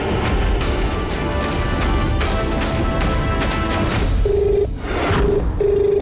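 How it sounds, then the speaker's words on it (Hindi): A mobile phone rings unanswered, its steady ringtone pulses repeating several times over a dense, loud background in a domestic drama scene. "मम्मी का भी फोन बज रहा है लेकिन कोई रिस्पांस नहीं है।"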